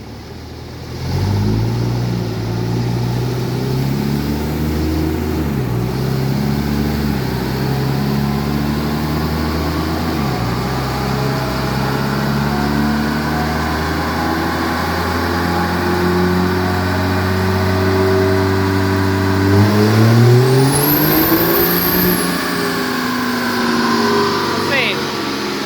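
A Cummins-powered Ram truck engine on a chassis dyno roars steadily and loudly, its pitch climbing through repeated rising sweeps as it pulls, with a brief high whine near the end and people talking over it.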